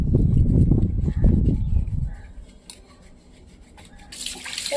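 Water poured and splashed over a little girl while her grandmother bathes her, heavy close splashing that tapers off after two seconds into a quieter pause, then a fresh rush of water at the end.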